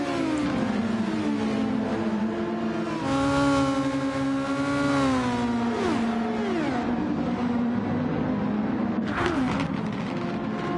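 Race cars in a sim racing endurance game, with a Porsche among them battling for position into a corner, whine past in a steady, close engine drone. Rising and falling revs mark gear shifts and overtaking, and no voices can be heard.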